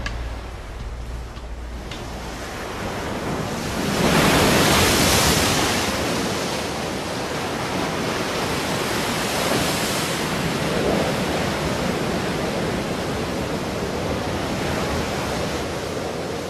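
Steady broadband rush of Meltem wind and surf along a wild, storm-worn Greek coast with sea caves, swelling louder around four seconds and then holding constant, with no voices.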